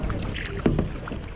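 A kayak paddled on the Baga River in Goa, a brief close paddle stroke splashing into the water over soft wind noise, with nothing else standing out.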